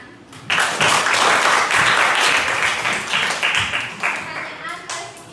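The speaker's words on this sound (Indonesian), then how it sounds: "Ijen, tepuk tangan." A classroom of students bursts into hand clapping, a dense, lively round of applause that starts abruptly, stays loud, then thins out toward the end, with voices mixed in.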